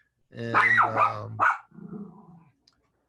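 A dog barks loudly nearby, three quick harsh barks followed by a lower growling rumble, heard on its own with no talk over it.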